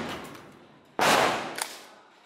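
A shotgun is fired at a helmet in a single sharp, loud blast that rings out and decays over about a second, with a faint secondary crack shortly after.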